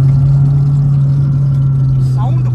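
Hyundai Verna engine pulling in second gear, a loud steady low drone holding throughout from up front, with faint higher rattles near the end.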